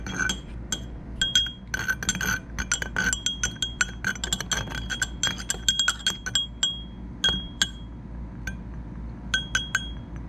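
Liquid swished around in a glass vessel while making spearmint essential oil, with quick, repeated clinks and taps of glass ringing throughout at close range; no voices.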